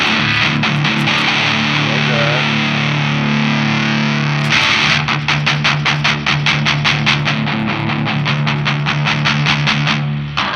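Electric guitar driven through a Walrus Audio Fundamental Distortion pedal in SI mode: a sustained distorted chord rings out, then gives way to a fast run of tight, palm-muted chugs, loud and close.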